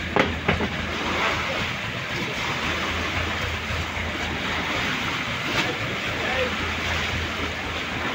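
A fishing boat's engine, just repaired after a blown cylinder head gasket, runs with a steady low drone and a broad churning roar over water. The sound stays even and continuous throughout, with faint voices in the background.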